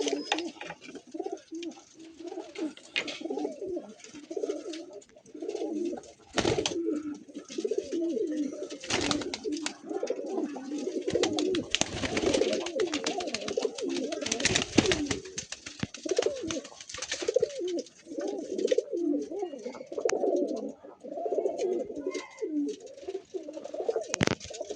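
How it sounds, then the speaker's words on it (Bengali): Pigeons in a loft, where the birds sit brooding eggs, cooing continuously in overlapping, repeated low throaty calls that sound close and fill the space. "দেখুন বন্ধুরা, সব পায়রা এখানে ডিম তাড়ায় আছে"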